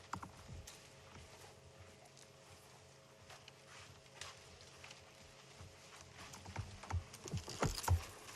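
A large elephant cow walks close by on a sunrise safari in the Sabi Sand, her heavy, soft footfalls and brushing steps building louder over a quiet bush background.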